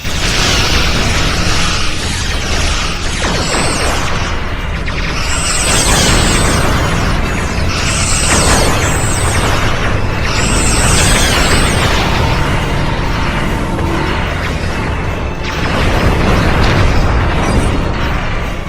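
Starship weapons fire and explosions from a classic Star Trek battle scene make a dense, continuous roar of loud booms, punctuated by repeated high chirping weapon sweeps.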